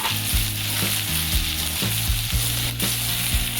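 Green chillies fry in a pan with a steady, dense sizzle. Repeated scrapes and stirring knocks punctuate it at an uneven rhythm, close and fairly loud, with no talking.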